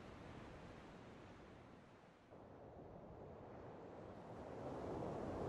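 Wind and ocean waves in the video game The Last Door, a steady rushing roar of surf and gusts that dips briefly and then swells louder toward the end, with no voices.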